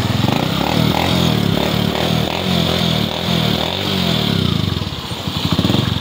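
A motorcycle engine, just push-started after its battery ran low and kick-starting failed, runs loud and close with a steady, throbbing idle pulse and slight uneven surges toward the end.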